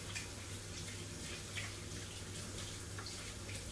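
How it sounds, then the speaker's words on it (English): A kitchen tap runs steadily while hands are washed at the sink during meal prep, a constant close hiss of water with faint splashing throughout. "Give me wash my hands."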